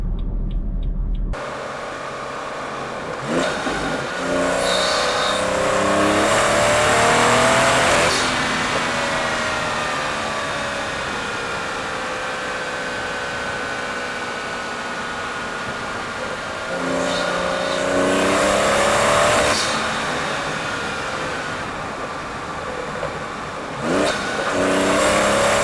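A manual BMW 340i with a B58 engine on an MHD Stage 2+ tune revs hard while driving, with repeated loud surges of acceleration and rising engine pitch and a sustained drone between the pulls.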